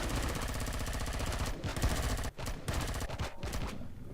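Rapid automatic gunfire in the sci-fi game Empyrion, dense continuous bursts with brief gaps, loud and close, cutting off near the end.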